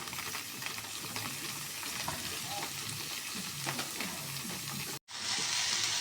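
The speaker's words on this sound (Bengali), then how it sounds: "আমি সুন্দর করে ভেজে নিচ্ছি" Rohu fish fries in hot oil for a broccoli curry, giving a steady, close sizzle with crackling spits throughout. The sound briefly cuts out near the end, then returns as a brighter, louder hiss.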